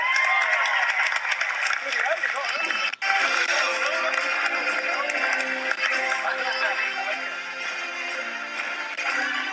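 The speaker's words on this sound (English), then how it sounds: "Big round of applause for Eleanor" Studio audience applause and cheering on a late-night TV talk show, welcoming a fan from the audience: dense, loud, continuous clapping with a brief sharp dropout early on, sustained throughout.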